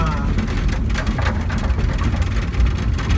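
Rain falling during the towing of a VAZ 2105 car along a dirt road, a dense steady patter and rumble that continues unbroken throughout, loud and close.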